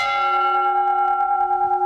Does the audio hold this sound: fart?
no